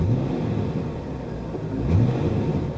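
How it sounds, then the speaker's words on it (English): A car engine idles with a low rumble, then is revved quickly once near the end, rising briefly in pitch and loudness before dropping back. "So now I'm going to do a quick rev."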